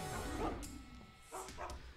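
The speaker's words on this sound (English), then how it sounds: "Dogs!" Dogs in the stealth game Mark of the Ninja give a few short yipping barks and whimpers, fairly quiet, set against low game ambience with no talk.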